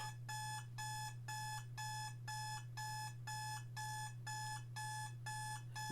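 Repeated short bursts of shrill electronic beeping from an alarm clock pulse at a quick, steady rhythm over a continuous low hum during an escape room challenge, with no talking.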